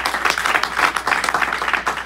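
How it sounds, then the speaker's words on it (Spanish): A church congregation claps during a worship service, a steady, lively round of many hands beating in a loose rhythm, fairly close and continuous throughout. "Dele palmas al Rey de Reyes"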